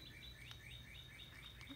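Small birds chirp in a garden on a morning walk, a run of quick repeated high tweets at a steady rhythm. The calls stay moderately close but soft over a faint background hum.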